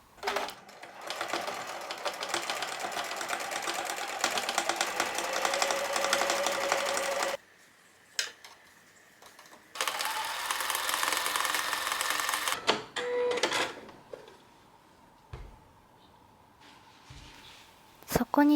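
A sewing machine bastes outer fabric onto an old towel used as a padding core, running in two long bursts of rapid, steady stitching separated by a pause, then a few short clicks and handling noises.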